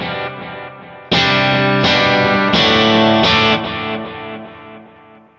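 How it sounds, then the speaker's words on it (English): Guitar played through an eighth-note delay effect on a Kemper profiler, a few sustained distorted chords struck in turn, each trailed by rhythmic repeating echoes that fade away at the end, with no talking. "Here's the sound of this delay."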